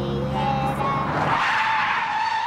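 A car skids hard under braking in a road safety commercial, a loud sustained tyre screech with a rising tonal squeal over engine roar, running continuously for a few seconds.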